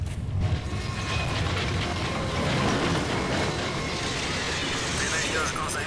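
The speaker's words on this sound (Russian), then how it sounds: "Поезд какой-то." A train rolls past in the WWII shooter Medal of Honor: Allied Assault Spearhead, a steady broadband rumble and rattle of rail cars that holds evenly loud for the whole stretch.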